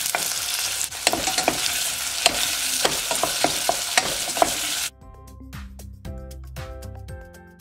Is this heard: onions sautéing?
yes